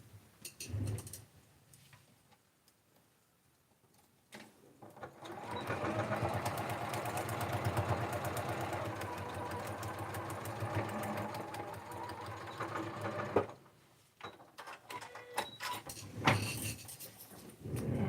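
A sewing machine stitches a quilt block in a long continuous whirring run of rapid needle strokes, preceded and followed by a few short starts, quiet handling clicks and pauses, with no talking.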